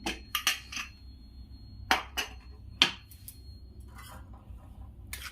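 Several sharp metallic clanks and clicks from a cooled pressure cooker lid being handled and lifted, separated by quiet pauses, close by.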